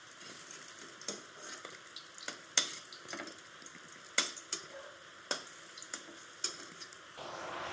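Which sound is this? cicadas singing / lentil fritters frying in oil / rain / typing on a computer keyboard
lentil fritters frying in oil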